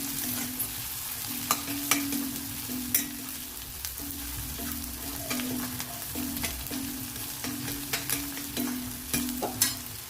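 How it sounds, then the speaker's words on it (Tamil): Onions sauté in oil in a pan for coconut rice, with a soft continuous sizzle and repeated scraping, tapping strokes of a spoon stirring through them, close and moderate in level, with no talk. "வெங்காயம் நல்லா வதங்கினா தான் இதுக்கு நல்லாயிருக்கும்"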